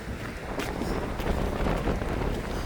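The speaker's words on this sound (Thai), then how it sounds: "แต่เขตนี้ลมจะแรงนะคะ ลมจะแรง" Strong wind blowing outdoors near a waterfall area, a steady broadband rush with gusty buffeting against the microphone, fairly loud and continuous, with no voices heard.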